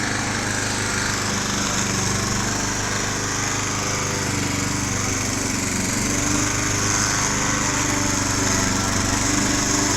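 A petrol grass trimmer cuts turf at a residential lawn, its high, buzzing engine whine running loud and continuous with a rough, slightly wavering edge as it chews through grass.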